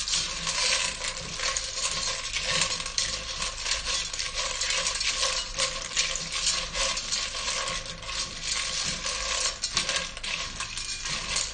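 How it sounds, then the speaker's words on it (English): Pasta shells stirred into melted butter in a single pot for mac and cheese, giving a continuous close scraping and clinking of utensil against metal over a soft sizzle, no talking. "So let's go ahead and add these shells now. Mix this up. Get them nice and coated in the butter."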